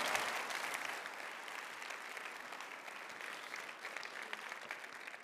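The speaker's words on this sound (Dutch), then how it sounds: "Met een enorm applaus, Annemarie Wegelaar." Conference audience applauding after a closing plenary keynote: soft, even wash of many hands clapping, heard at a distance and fairly faint, steady throughout with no voices on top.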